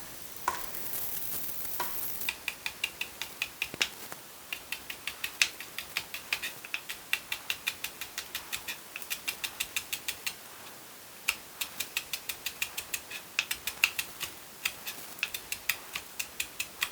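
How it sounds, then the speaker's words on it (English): A knife slices a garnish on a cutting board in rapid, rhythmic chops, a long run of crisp taps with brief pauses between bursts, close and fairly quiet. "And then I'm just gonna slice it."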